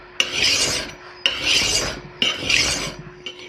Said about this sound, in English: I'm just using push filing because I'm just following the angle that already exists